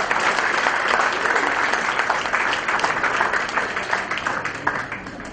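At an award ceremony for Pune artists, an audience gives sustained, dense applause. The clapping runs steadily and loud for about five seconds and eases slightly toward the end.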